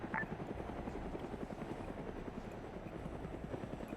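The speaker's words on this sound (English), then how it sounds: "so I'm just gonna have the chopper pull back" A helicopter in the video game Arma 3 drones with fast, steady rotor thumping, a continuous throbbing beat at moderate distance, heard alone.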